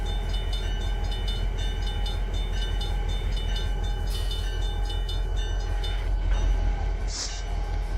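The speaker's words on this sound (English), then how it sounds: "Let's put in some torque so we can pull this big train along" A big granary freight train in Trainz 12 pulls away with a steady rumbling engine drone, rhythmic wheel clatter and mechanical whine. It stays loud and continuous, with a brief hiss near the end and no talking.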